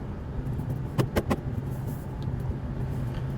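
A car drives along a rural road near Ban Na Samakkhi, Thailand, with a steady low engine and road rumble heard from inside the cabin and a few brief clicks or jingles near the one-second mark.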